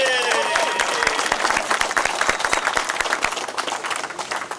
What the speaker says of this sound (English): Please, a nice round of applause for Jen White.